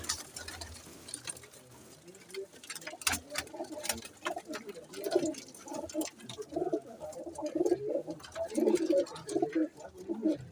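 Saharanpuri pigeons, mostly young birds, coo softly in a loft, with low repeated coos building through the second half and faint rustling and clicks in the background.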